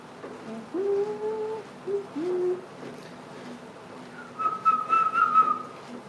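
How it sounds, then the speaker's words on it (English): Someone whistles a few short wavering notes, then a longer, higher sustained whistle, alone in a quiet room. "God, I didn't know I could whistle like that."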